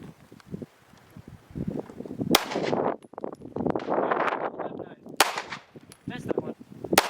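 Glock 19 pistol with a ported barrel firing 115 grain full metal jacket rounds at a range, a few sharp shots spread out among clatter and handling noise, with quiet voices in the background.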